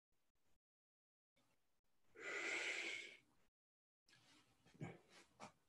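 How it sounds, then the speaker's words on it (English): A wine taster draws air in over a small sip of wine held under the tongue, a sharp close slurping hiss in the middle, then softer gurgling and breathy aerating sounds in a quiet room. "The next stage is the slurping."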